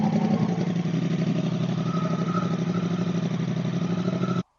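A bobber motorcycle engine, left unused for nearly three months, runs steadily and loud and close with a throbbing idle rhythm, then cuts off abruptly at the end.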